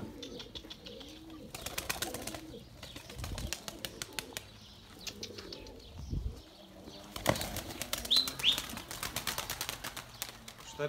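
Loud flurries of pigeon wings beat in several bursts as the birds take off, with soft cooing and a brief chirp in between.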